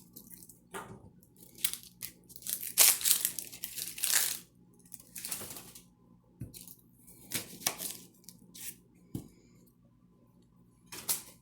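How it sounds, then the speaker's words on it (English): Onion ends being cut off and dropped over a compost paper bag in a kitchen, a series of close crinkling paper rustles and crisp crunches in irregular bursts with quiet gaps between. "My paper bag is compost, so I'm just going to cut my ends off my onions."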